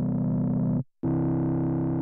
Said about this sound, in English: this enhancement setting is one of our distortion circuits. Gives a really nice crunch.